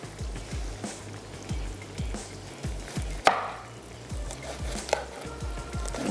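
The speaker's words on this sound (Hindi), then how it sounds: "यहाँ बैंगन के हम कर रहे हैं स्लाइस" Eggplant sliced with a knife on a cutting board, a steady series of soft thuds about every half second, close and clear, with a louder clack partway through.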